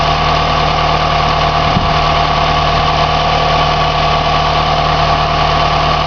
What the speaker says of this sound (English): That's the engine running from dead cold